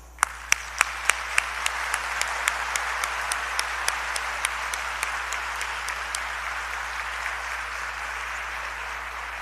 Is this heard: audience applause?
yes